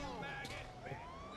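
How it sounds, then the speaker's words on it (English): Police car siren in the GTA V video game wails with a rising and falling tone close behind, blended with engine noise and game sounds. "I love the police car behind us."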